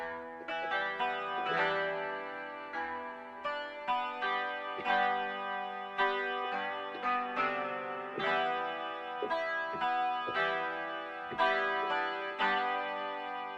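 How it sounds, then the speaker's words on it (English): An acoustic guitar sample played on a Korg Wavestate synth, processed with chorus, distortion and echo so it sounds distant and radio-like, strummed notes ringing steadily without talk. "So I took one of the acoustic guitar samples and then played about the effects and then just got that so it sounds like it's in the radio."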